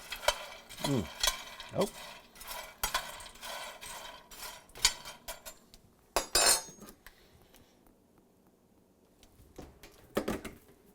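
Food roasting in an oven gets stirred with a metal utensil, giving a run of clinks and scraping knocks against the pan that fade to quiet near the end; a brief exclamation is heard.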